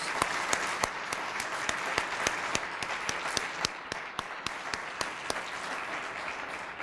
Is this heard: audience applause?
yes